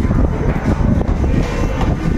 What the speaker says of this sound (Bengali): হাওয়া দিচ্ছে প্রচণ্ড